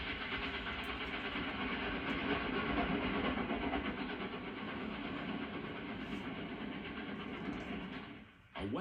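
A Big 4 New York Central Hudson steam locomotive departs Dayton Union Station westbound in 1940, a steady loud rumble and rolling rail noise that holds throughout, then dips briefly near the end.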